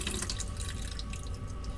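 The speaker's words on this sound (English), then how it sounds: "Drain that out of there." Tap water drains from a cooking pot into a kitchen sink, a steady splashing pour with small drips, fairly close, without any talking.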